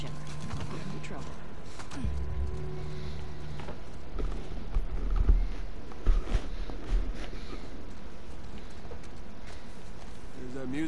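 Horses in The Last of Us Part II, hooves clopping and shuffling at close range with a few louder thumps midway, while people talk over them.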